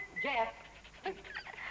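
A dog pants and whimpers on a film set in short breathy bursts, with a couple of brief whiny rises, fairly close and moderately loud.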